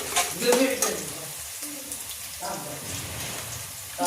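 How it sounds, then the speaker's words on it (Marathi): Onion frying in a pan for an ukad brinjal dish, a sizzle broken by louder stirring scrapes near the start and again toward the end, close and moderately loud, with no speech. "आता हा कांदा मस्त असा लाल गुलाबी होऊन द्यायचा आहे"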